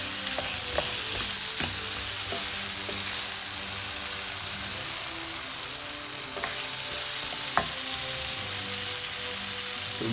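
Potatoes and spinach for saag aloo fry over medium heat in a pan, a steady close sizzle with scattered crackles and a few sharp stirring clatters throughout.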